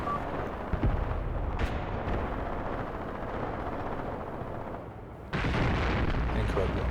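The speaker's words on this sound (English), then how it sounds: "More howitzer shots. And more artillery, of course." Howitzer artillery fire in the war game Graviteam Tactics: a dense, loud rumble of distant and near shots blending into continuous battlefield roar, swelling sharply near the end.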